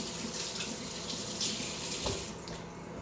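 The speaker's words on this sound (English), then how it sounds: "Wash my hands again" Hands washed under a running kitchen faucet, a steady hiss of water into the sink with soft splashes from moving hands, close and alone with no talking.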